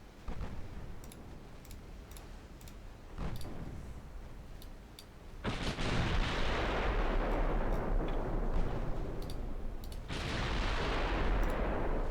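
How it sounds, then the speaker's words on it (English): A torpedo strikes in a naval combat video game, exploding with a loud, roaring blast that swells over continuing gunfire. A second surge of rumbling follows, set against a steady background of battle sounds. "Oh, torpedo hit."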